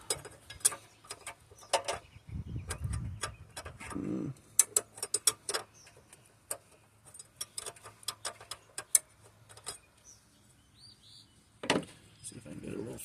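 A ratchet cranks down the bolts on a Volkswagen Passat timing cover: rapid bursts of sharp mechanical clicking come in uneven spurts with short pauses, close by, over a few dull knocks.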